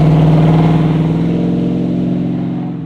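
A 1967 Ford Mustang Pro-Touring fastback with a 501ci V8 revs loudly up close, its deep throbbing engine note rising and then easing as the car pulls away, fading toward the end.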